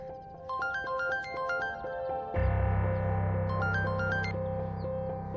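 A telephone ringtone plays as a bright electronic melody of stepped tones, then a louder, fuller tone layer joins halfway through and the melody continues over it, steady and prominent with no talk.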